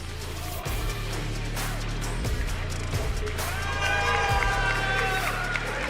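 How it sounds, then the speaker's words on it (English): Crowd cheering at a StarCraft II esports match at DreamHack Dallas, a distant, steady roar of fans sitting under game sound effects and music, rising slightly toward the end. "They are cheering loud for Maru, ZG."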